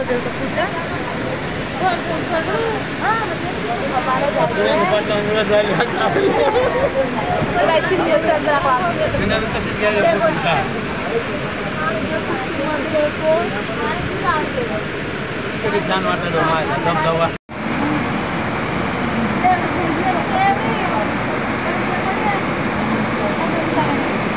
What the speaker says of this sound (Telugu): ఆ వాటర్ పోతున్న సౌండ్ కూడా చాలా బాగా అనిపించింది